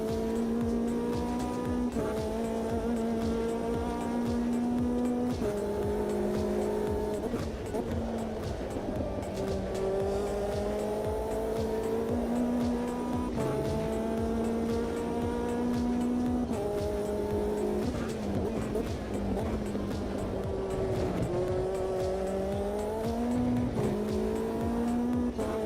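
Race car engine in the Automobilista 2 racing game at Le Mans, loud and continuous, with repeated rising revs through the gears, sharp lifts and downshifts between, and tire squeal at corners.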